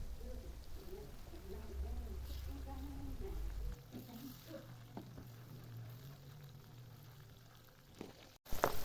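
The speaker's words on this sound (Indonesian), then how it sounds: "Panaskan sedikit minyak lagi, kemudian goreng sambal yang sudah kita blender tadi ya." Blended chili sambal fries in hot oil with a steady, close sizzling hiss, while birds coo nearby and a voice murmurs faintly underneath.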